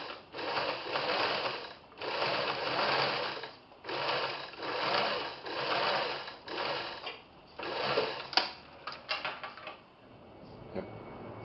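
A sewing machine runs a zigzag seam finish in six or seven loud whirring spurts of about a second each, set by a foot pedal pressed and released, then a few softer clicks.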